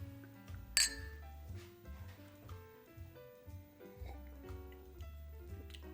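Glasses of sparkling wine clink together in a toast, one bright, sharp clink near the start, then quiet soft background music.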